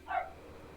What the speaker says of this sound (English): Dog's going off again.